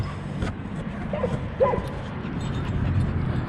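At a dog park, a dog gives a few short, faint yips and whimpers at a distance over steady outdoor background noise, with occasional voices.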